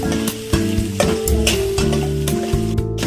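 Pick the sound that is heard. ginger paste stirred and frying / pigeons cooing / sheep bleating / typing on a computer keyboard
ginger paste stirred and frying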